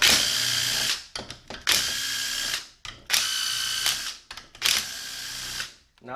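A socket ratchet loosens 10mm bolts on a 6L80-E transmission in four bursts of rapid, loud clicking, each separated by a brief pause.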